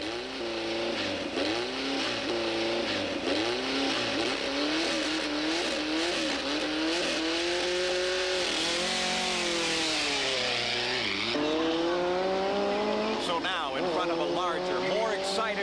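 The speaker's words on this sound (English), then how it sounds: "Bob Gordon, the first four-wheel vehicle, is underway." Engines of off-road race vehicles rev and rise in pitch as they pull away one after another at the start of the 1987 Baja 1000, loud and close, with someone talking over them.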